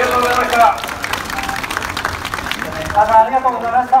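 A crowd at a Japanese political rally claps and cheers at moderate distance while a voice talks through the applause, which swells again near the end.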